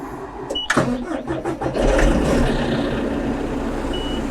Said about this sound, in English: All right, so once we're in the machine, we can go ahead and turn it on.